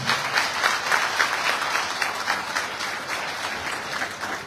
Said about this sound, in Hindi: भारत की सेना के लिए जोरदार ताली होनी चाहिए